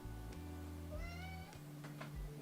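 A cat meows twice softly indoors, brief rising calls heard faintly over a steady background hum, with no talking.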